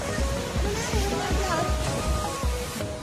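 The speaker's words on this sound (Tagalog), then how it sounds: "lakas ng alon." Strong waves crash and surge in repeated heavy pulses close by, with a constant rushing wash of water throughout.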